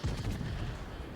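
Heavy naval guns of the USS Massachusetts battleship fire in World of Warships, a single deep low boom with a rumbling tail, moderately loud and alone.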